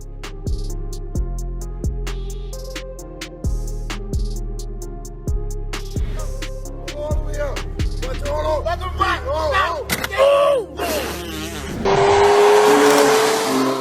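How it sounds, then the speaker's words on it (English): A Ferrari Roma sports car moves through narrow Italian streets with a series of sharp, evenly spaced knocks and clunks. Engine revs then warble and rise, and a loud rushing noise follows at the end. "Trying to drive through the narrow streets of Italy in a Ferrari Roma is a bad idea."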